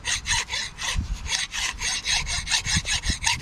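Hand sanding on the lower pump housing of a Honda pressure washer, cleaning the metal bright before JB Weld repair: steady back-and-forth rasping strokes, about four per second, close and loud with no talk.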